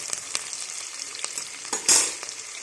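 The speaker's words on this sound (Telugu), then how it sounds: "ఇలా ఆనియన్స్, పచ్చిమిర్చి, కరివేపాకు వేసుకొని కొద్దిగా ఫ్రై చేసుకోవాలి." Onions, green chillies and curry leaves fry in oil, giving a close, bright crackling sizzle with scattered pops and a louder burst of spitting near the end, and no voices.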